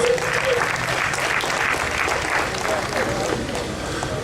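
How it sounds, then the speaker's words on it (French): Concert audience applauding Tony Yambodé at a launch concert for Bénin Révélation Stars, a dense, steady wash of clapping throughout, with a voice briefly audible near the start. "applaudissons Tony Yambodé pour cette initiative"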